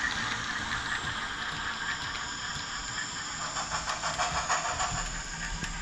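A model train runs steadily on its track as its throttle is adjusted, giving a continuous close hiss and motor whir with fast rhythmic clicking from the wheels and rail joints.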